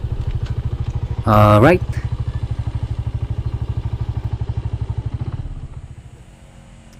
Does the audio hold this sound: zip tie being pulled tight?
no